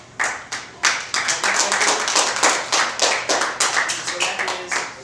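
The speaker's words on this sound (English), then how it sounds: "Give her a big round of applause" A small close-up magic audience claps in crisp, distinct individual hand claps, lively and fairly near, lasting about five seconds with no talk over it.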